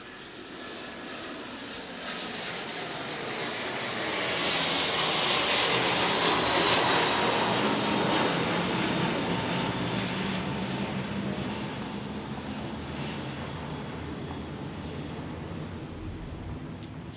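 A corporate jet departs with a broad engine roar that swells to a peak and then fades slowly into the distance, with a thin high whine running through it.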